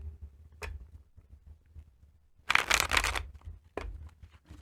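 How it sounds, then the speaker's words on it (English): Close-up riffle of a deck of cards being shuffled, a brisk flurry of flapping cards with a couple of sharp snaps before and after, otherwise quiet. "Let's get this deck shuffled."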